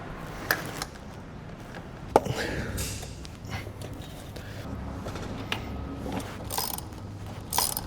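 Close mechanical ratcheting and clicking of intake parts being screwed and fitted on a ZL1 car, with scattered sharp metallic taps and rustling.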